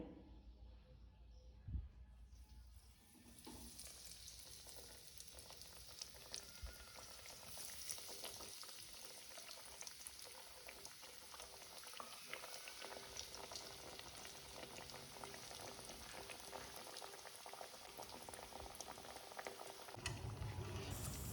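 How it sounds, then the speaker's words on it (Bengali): Paneer cubes frying in hot oil in a kadai, a steady dense sizzle and crackle that holds strong and close throughout, with no talking. "এখন আমি পনিরটা ভেজে নেব"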